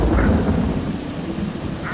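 Rain falls steadily in the Eschalon: Book III video game while low rumbling thunder rolls underneath, continuous and fairly loud, with no voices.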